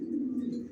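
Racing pigeon chicks give a short, soft, low coo up close, a single brief murmur.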